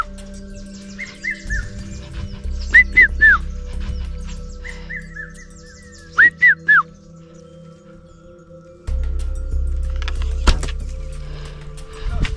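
A man mimics a bird's call with short whistled chirps to lure doves while hunting, in two quick bursts over a low steady hum and faint background noise.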